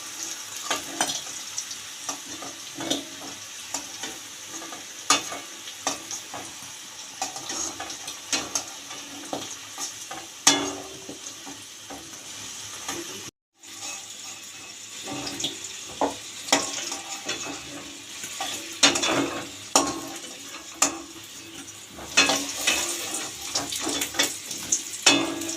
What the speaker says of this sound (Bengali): এই যে দেখছেন আলুগুলো আমার ভাজা হয়ে গেছে ভালো করে।